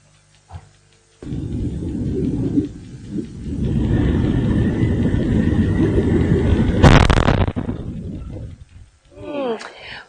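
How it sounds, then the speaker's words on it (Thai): A medical plane crashes, and a loud, sudden explosive blast bursts out over a sustained roaring rumble, followed by crackling debris and fading noise, with brief voices at the end. "ก่อนที่เครื่องบินลำนี้จะกระแทกพื้น แล้วก็ระเบิดเป็นเปลวไฟค่ะ"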